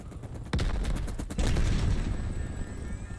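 Loud, close automatic gunfire in the video game Call of Duty Black Ops Cold War, rapid bursts of shots with a heavy impact around the midpoint and continuous firing to the end.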